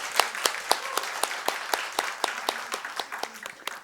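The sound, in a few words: applause of encouragement in a church service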